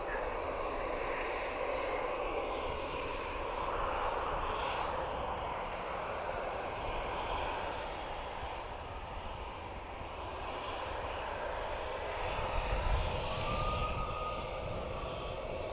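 A Finnair airliner departing Dublin Airport for Helsinki produces a continuous, broad jet engine roar, distant but steady for about fifteen seconds, with a slight swell near the end.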